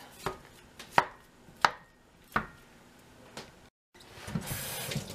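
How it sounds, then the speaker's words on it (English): Ground meat seasoned with garlic salt being chopped with a knife, a handful of sharp, close chops spaced about a second apart, followed by quieter shuffling. "And chop it up."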